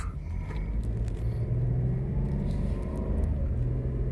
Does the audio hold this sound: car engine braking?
yes